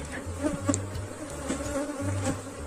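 A honey bee swarm drones steadily inside its hive, a dense close buzz with the low hum of many wings rising and falling slightly throughout.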